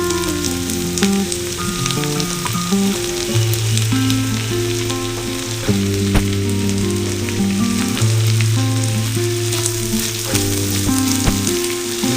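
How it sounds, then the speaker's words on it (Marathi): Potatoes frying in hot oil with garlic paste and green chillies, a loud, continuous sizzle and crackle close up that holds steady throughout with no voices. "तेलामध्ये चांगला जरा हा फ्राय करून घ्यायचा आहे बटाटा"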